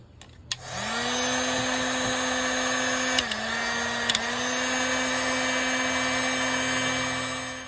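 A heat gun heats a connector spliced into a 12-volt hot wire during a carburetor replacement, starting after a click and blowing as a loud, steady whine with a brief dip partway through.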